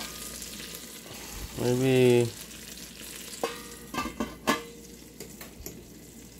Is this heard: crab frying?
yes